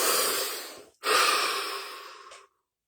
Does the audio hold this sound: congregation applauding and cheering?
no